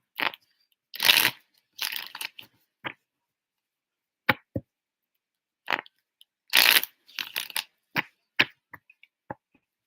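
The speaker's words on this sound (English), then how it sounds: "I have shuffled and asked if he's still talking to her." Tarot cards shuffled in short bursts, crisp riffles and taps separated by silent gaps, close and clear with no voices.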